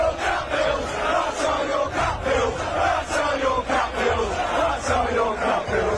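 Away football crowd jeering a player at his first game back, a loud massed roar of voices rising and falling in waves of chanting and booing.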